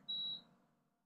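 A Luma infrared grill gives a single short, high electronic beep as its timer dial is turned, clear and brief over a faint low hum before fading to near silence.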